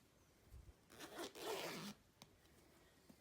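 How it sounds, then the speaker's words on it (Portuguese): A zipper is pulled along a fabric beach clutch in one main run with a few short tugs around it, soft and close in a quiet room. "eu faço esse teste preliminar para ver que meu zíper vai correr bem"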